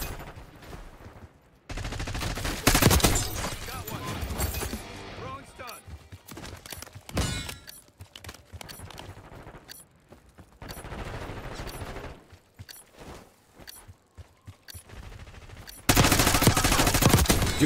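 Gunfire in the shooter game Black Ops 6 comes in sharp, loud bursts separated by quieter gaps, with a heavy sustained volley near the end.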